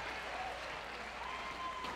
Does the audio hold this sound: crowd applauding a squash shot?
yes